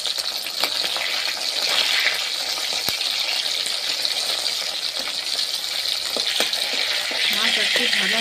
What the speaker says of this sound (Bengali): মাছ ভেজে নেব।